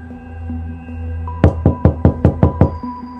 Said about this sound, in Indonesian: Tiba-tiba dari luar terdengar suara ketukan pintu.